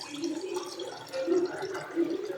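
Water poured into a pot of rasam during cooking, a steady splashing and trickling liquid sound with a few louder surges, close and unaccompanied by talk.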